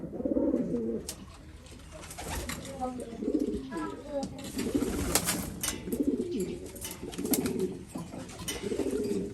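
Pigeons cooing in a loft while drinking red water before a 350 km race, repeated rhythmic low coos close by, with scattered rustles and clicks around them.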